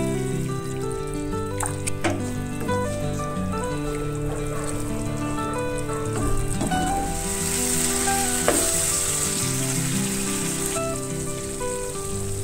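Paneer butter masala gravy cooks with a little added water, bubbling and sizzling steadily and fairly loudly throughout, with a few light stirring knocks.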